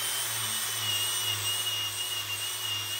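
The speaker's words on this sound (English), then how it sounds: "we're just going to use a buffing wheel and see how much we can take off" A buffing wheel grinds down a metal car part, giving a steady loud whine with a constant high tonal hum and motor drone, unbroken for the whole stretch.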